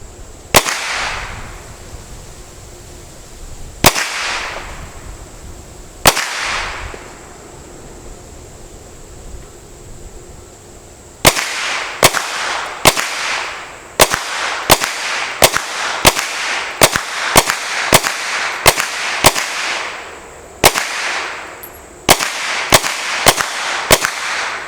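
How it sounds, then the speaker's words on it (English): A Hi Point 995ts carbine fires at cans and bottles outdoors: three spaced sharp shots, then a rapid string of about fifteen loud cracks, each followed by a brief echoing tail. "Let's see what I can do plinking these cans and bottles down there."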